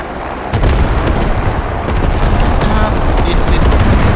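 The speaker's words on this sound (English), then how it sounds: "and this artillery" Artillery fire in the video game Squad during a competitive scrim, a dense, loud rumbling barrage of booms and blasts that swells after a brief lead-in and continues unbroken, with voices faintly underneath.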